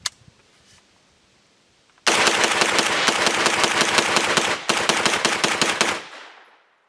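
A Smith & Wesson Response 9mm carbine fires a long, fast string of loud, closely spaced shots, with a short break partway through before the string resumes and then dies away.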